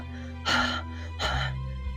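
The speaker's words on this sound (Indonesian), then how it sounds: "Dengan nafas terengah-engah," A young man, Anusapati, pants heavily and breathlessly after strenuous silat martial-arts training, with two loud, close breathy gasps and a short pause between them.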